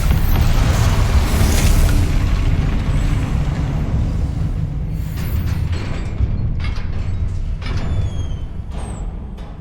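Confringo blasting spell explosions in the Hogwarts Legacy video game: a loud, dense rumbling blast that swells early and lingers as a sustained low roar with crackling debris, no talk over it.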